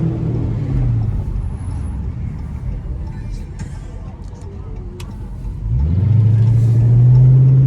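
A 5.7 HEMI V8 engine in a Chrysler 300 rumbles at idle, then revs up into a deep, loud exhaust roar near the end, with a voice talking over it.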